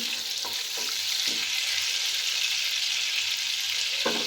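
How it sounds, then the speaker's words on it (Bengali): A small knob of butter melts into white cooking oil in a pan for a restaurant-style chicken soup, giving a steady, close sizzling hiss throughout with a few faint stirring clinks and no talking. "ভালো করে তেলের সঙ্গে বাটারটাকে মিশিয়ে দিচ্ছি"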